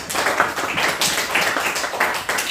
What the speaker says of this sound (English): Let us give Ken a big round of applause.